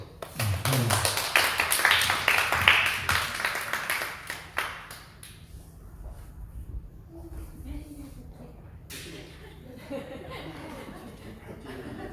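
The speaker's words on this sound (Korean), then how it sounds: "박은경 성도님 나올 때 박수로" A church congregation at a Sunday afternoon service claps and laughs for a few seconds, a lively burst of hand claps with chuckling that fades into quiet, then a voice begins speaking.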